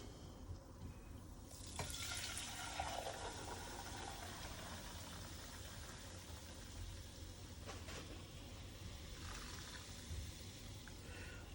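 Clarified butter (ghee) poured from a pan into a container, a steady liquid stream with a brief splashy onset, heard close with no talking.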